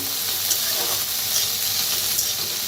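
Mixed vegetables, including broad bean seeds, roasting on a wood-fired clay village stove, with a continuous close, bright sizzling hiss and faint crackles throughout.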